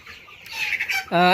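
Forty-day-old Sonali Super Hybrid A+ chickens on a poultry farm of about 5,500 birds give close, clear clucks and short calls, ending in a louder, drawn-out squawk.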